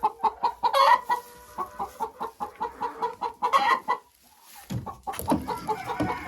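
A hen clucks in a steady, repeated rhythm, close by, with a few louder squawking bursts and some rustling, just after laying an egg.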